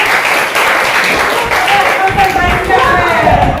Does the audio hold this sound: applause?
yes